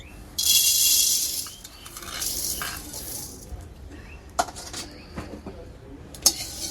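Coriander seeds hit a hot pan in a loud rattling, hissing burst, then quieter scraping and clinking of a spoon stirring them, with a few sharp knocks near the end.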